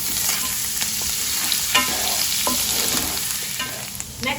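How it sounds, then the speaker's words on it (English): Chopped garlic and ginger fry in oil for a squid masala, a loud, steady close sizzle with frequent scraping stirs of a spatula against the pan, no voices. "now we are going to add in the chopped garlic and ginger. You just fry it till the raw smell disappears"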